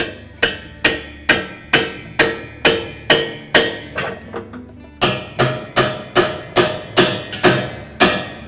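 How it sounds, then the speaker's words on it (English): A spanner wrench is struck repeatedly to tighten the tub nut on a Whirlpool washer, giving a steady series of sharp metallic blows, about sixteen strikes in an even rhythm with a brief softer stretch in the middle. "with our spanner wrench, we'll tighten this one up pretty good"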